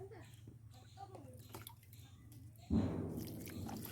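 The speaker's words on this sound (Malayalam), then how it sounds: "ഇച്ചിരി വെള്ളം ഒഴിച്ച് കൊടുക്കാം." Water poured from a container onto brinjal plants in a garden starts abruptly partway through as a steady splashing gush, following a stretch of low background noise.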